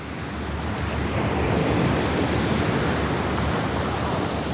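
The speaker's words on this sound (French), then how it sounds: "Selon des témoins, les vagues atteignent 8 ou 10 mètres." Large ocean waves pounding during Cyclone Omar, waves reported at 8 to 10 metres, a dense continuous roar of surf and wind, loud and steady throughout with no voices.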